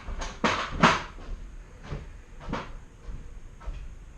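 A workshop drawer is opened and shut several times, giving a quick run of rattling slides and knocks at first, then a few softer, spaced-out thuds and scrapes at close range with no talking.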